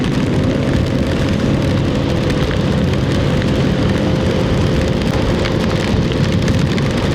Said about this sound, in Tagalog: Magdamag na ulan po.